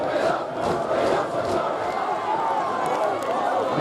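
A football crowd at a Halesowen Town versus Spalding United play-off final roars steadily after a late equaliser, a dense sustained swell of cheering voices with no single voice standing out.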